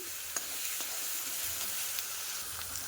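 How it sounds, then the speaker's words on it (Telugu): Onion paste fries in a pan for a prawn and egg curry, giving a steady close sizzling hiss with a few light clicks of a stirring spoon, even and moderately loud throughout without speech. "మనకి చూడండి చక్కగా వేగుతుంది ఉల్లిపాయ ముద్ద అంతా కూడా వేగుతుందండి"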